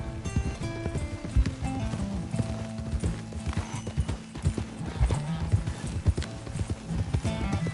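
Horse hooves clip-clopping in the Western video game Red Dead Redemption 2, a steady rhythmic trot heard up close over a soundtrack-like background, with occasional snorts.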